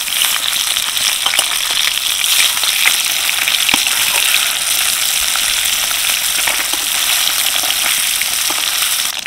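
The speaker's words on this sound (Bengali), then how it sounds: "মাছগুলো দেখো খুব ভালো করে ভেজে নিয়েছি" Turned fish, rohu for a spinach-coriander dish, sizzles and spits in mustard oil in a wok, a dense, even crackle held at close range throughout, with sharp little pops and no talking.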